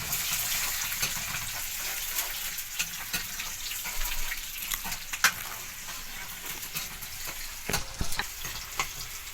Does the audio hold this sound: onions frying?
yes